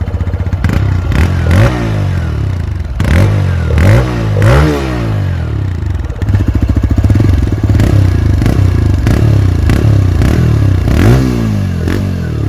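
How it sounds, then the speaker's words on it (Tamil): TVS Raider 125 motorcycle exhaust note as the throttle is blipped repeatedly, loud close revs rising and falling in quick bursts over a steady idle, with no talk. "இதான் எக்ஸாஸ்ட் நோட்டு"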